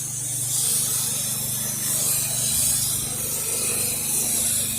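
An M5 pressure washer with a downstream nozzle runs a low-pressure wash on a house exterior, giving a loud, steady spray hiss over a constant engine drone from start to finish, with no talking.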